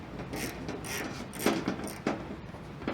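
A fastener is loosened during removal of a fender on a 2015-2022 Dodge Charger, with soft, close ratcheting clicks in short, irregular bursts.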